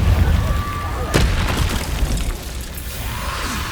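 A Confringo fire spell explodes in Hogwarts Legacy as a sharp boom and burst over the game's dense, rumbling background, with no talking.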